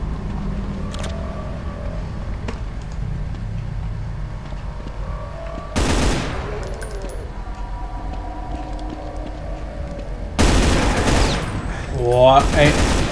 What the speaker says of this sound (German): Und die schießen auch schon auf uns.